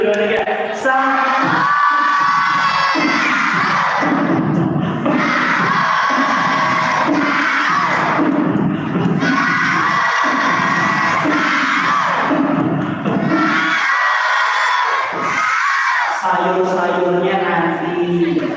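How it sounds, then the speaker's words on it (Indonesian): Children from a Quran study class in Banda Aceh shout the pre-dawn meal call together in loud, repeated group chants with brief pauses, like a cheering crowd close by. "keliling kampung teriak sahur, sahur, bareng-bareng 1, 2, 3, sahur."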